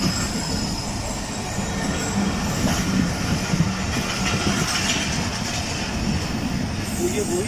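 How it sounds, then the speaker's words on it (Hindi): The Shalimar Express passenger train at Ran Pathani railway station rolls past loud and close, with continuous rumble, wheel clatter and squeal filling the whole stretch. "तो ये वही शालीमार एक्सप्रेस है जिससे कल रात पहुंचा था कराची में"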